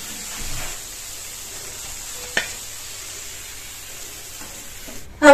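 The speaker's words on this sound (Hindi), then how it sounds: "अब दूसरे तरफ भी अच्छी तरह तल लेते हैं।" Oats cutlets fry in hot oil, a faint steady sizzle with a single sharp tap midway and a louder clatter right at the end.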